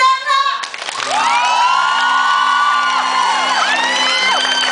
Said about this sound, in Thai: ขอเสียงปรบมือดังๆค่ะ